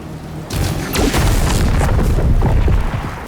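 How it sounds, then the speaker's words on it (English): Heavy booming impacts and crunching bursts from DOOM: The Dark Ages as Doomguy lands and crushes demons, loud and dense, with a few sharp hits over a rumbling low end. "demons get obliterated just from the force of Doomguy landing"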